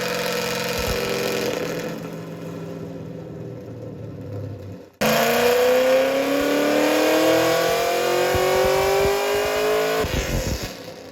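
A naturally aspirated LS V8 on a chassis dyno burning E85 revs hard. A loud climbing engine note cuts off abruptly, then a second pull sweeps up steadily in pitch before letting off near the end.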